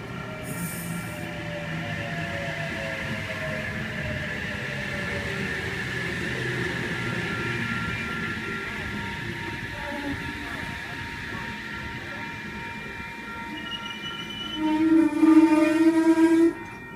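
A Sydney Trains Newcastle Oscar set pulls into a station platform, a steady rolling rumble with ringing wheel and motor tones throughout, building to a louder close pass near the end.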